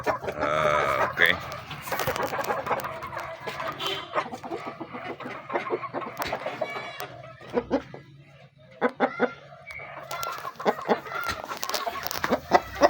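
Pet chickens cluck and chatter nearby while being fed, a busy, irregular stream of close clucks from several birds, with occasional brief human voices in between.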